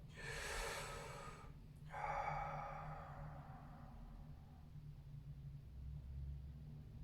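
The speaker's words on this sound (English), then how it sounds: "Just breathe softly" Two soft, breathy exhalations during a yoga session, each a gentle airy rush a couple of seconds long, close and quiet over a faint low room rumble, with no talking.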